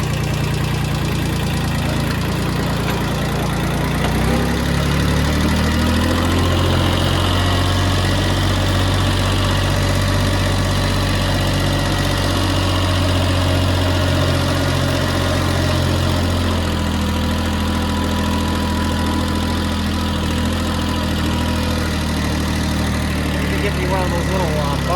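A diesel vehicle engine runs steadily in second gear, a loud, continuous low rumble with a knocking vibration filling the cab from start to finish, with a person talking over it.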